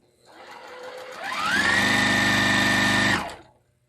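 Close up, a sewing machine winds up from a soft start into a fast, steady whirring stitch with a rising whine, holds at full speed for about two seconds, and then quickly winds down to silence.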